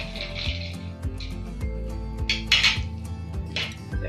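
A spoon stirring an herbal immune drink with lime in a glass, with light clinks and scraping against the glass in a steady rhythm, close and fairly loud.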